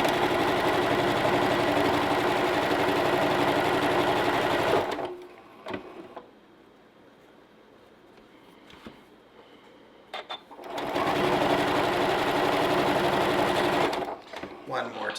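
A sewing machine stitches a quilt seam in fast, steady bursts, running loud and continuous for about five seconds, pausing while someone talks quietly, then running again before stopping with a few short stitches at the end.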